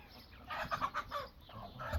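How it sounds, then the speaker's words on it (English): Farmyard poultry cluck in a short burst of close, moderately loud calls, with no one speaking. "Definitely not short of birds, poultry."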